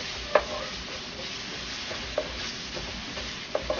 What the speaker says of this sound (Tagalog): lagay natin tong ating onion. Ayan. Igisa lang natin to ng maigi.